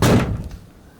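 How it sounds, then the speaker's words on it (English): A door of a 1979 Bedford CF campervan slams shut once, a close, heavy metallic thud that decays quickly into quiet. "And we can even shut the door."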